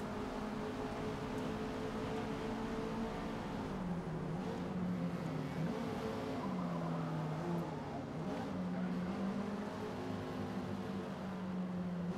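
Racing car engine in Forza Motorsport, holding a steady mid-range drone with gear changes and revs rising and dipping, fairly faint and even throughout, with no talking.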